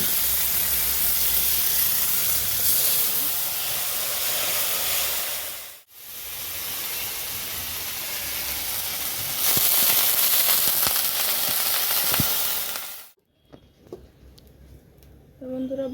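Chopped onion, green chili and ginger-garlic paste hit hot oil in a pan with a loud, broad hiss and sizzle. The sizzle drops out briefly twice, then gives way to quieter scraping near the end.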